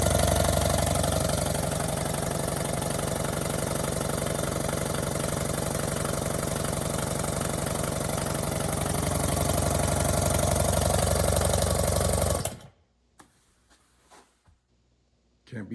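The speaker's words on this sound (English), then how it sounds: "This is the Astro Pneumatic 4550A." An Astro Pneumatic 4550A air tool runs loud and steady for about twelve seconds, then cuts off abruptly, leaving near silence broken by a few faint knocks.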